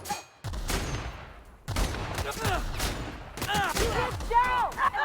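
Gunfire in The Outer Worlds, several sharp shots and bursts separated by short gaps, loud and close, with a voice speaking between them.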